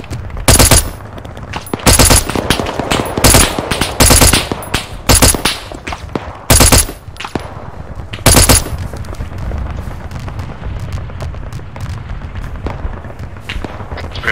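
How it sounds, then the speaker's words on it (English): Loud gunfire in a military video game mission, with rapid machine-gun bursts and sharp single shots cracking in clusters over the first half, then easing into a steadier background rumble of distant fire. "they're opening fire on the tower"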